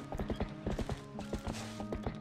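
Link's horse gallops across Hyrule Field in the video game Twilight Princess, a fast, regular clip-clop of hooves close and clear against a faint game backdrop.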